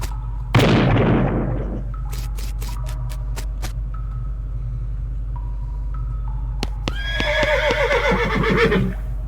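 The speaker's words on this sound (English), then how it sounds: "Whinny." A horse whinnies in the Western video game West of Loathing, a loud neigh with falling harmonic wails near the end, after a sharp burst of noise and a series of clicky, percussive interface-like taps over a steady low hum.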